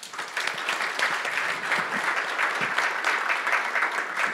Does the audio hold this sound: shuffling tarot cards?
no